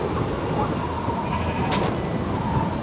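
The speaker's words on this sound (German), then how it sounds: "Oi, hallo Schaf." Sheep bleats from the video game Minecraft, a few short calls rising over steady windy, rainy ambience in a German playthrough.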